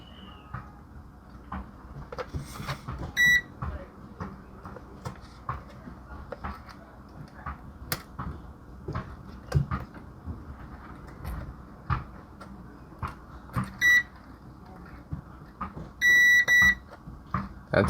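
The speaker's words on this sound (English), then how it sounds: "We're first going to take a continuity tester and see if any of these pins are bonded." A continuity tester gives short electronic beeps as its probes touch the pins of a Samsung WB250F camera connector. There are three spaced beeps among close, frequent clicks and taps of handling, with no talking.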